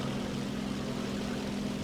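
Fighter plane engines in the War Thunder video game, including an F-109 and a Twin Stang, drone steadily with a constant low hum and broadband roar throughout, with no talk.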